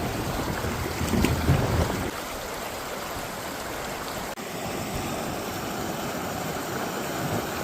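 Rushing river rapids pour steadily as a constant broadband wash of water, close and loud, with a brief louder surge early on and no speech.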